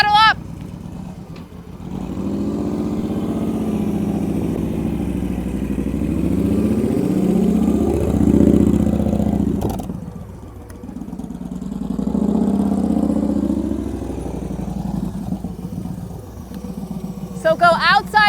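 During slow-speed cone practice, a motorcycle engine swells and falls as the throttle opens and eases, with its rising harmonic drone repeating in long waves and voices audible over it.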